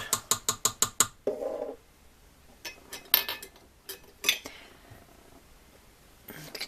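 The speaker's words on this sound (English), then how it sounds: "Get the lid on this so I don't spill it" Lid twisted onto a jar of homemade blackstrap brown sugar: a quick run of about seven sharp ratcheting clicks, followed by scattered knocks and clinks of handling.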